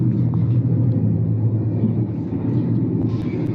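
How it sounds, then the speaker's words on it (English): Simulated train environment noise played back, a steady low rumble of a moving train cabin, continuous and moderately loud with faint higher rattles, no talk. "the first noise that I'm playing for you is simulating a train environment"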